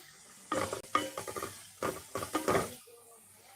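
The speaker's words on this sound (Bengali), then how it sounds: "লাউ শাক রান্না করবো এর জন্য আলু চিংড়ি মাছ আর মশলা দিয়ে ভালোভাবে কষায় নিচ্ছি" A spatula scrapes and knocks in a pan as potatoes, prawns and spices are sautéed for a bottle gourd greens dish, with quick irregular bursts of stirring over a soft sizzle.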